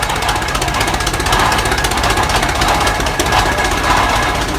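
An old tractor engine in a parade at Rollag 2018 runs loud and close with a rapid, rough chugging beat that holds steady throughout.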